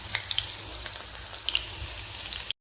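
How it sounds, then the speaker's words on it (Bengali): Chicken pakoras deep frying in hot oil, a steady bubbling crackle with scattered sharp pops, close and even throughout with no talking. "আর এই যে অলরেডি কিছুটা ছেড়ে ফেলেছি পকোড়া।"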